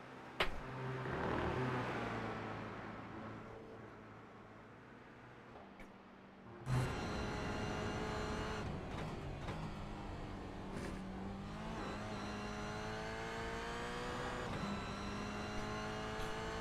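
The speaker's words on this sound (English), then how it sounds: "these cars give off a lovely roar as they come through this track in Virginia" Race cars roar around Virginia International Raceway's North course in a racing video game, a steady loud engine drone with rising and falling revs, a sharp burst near seven seconds as another car sweeps close, with no talking.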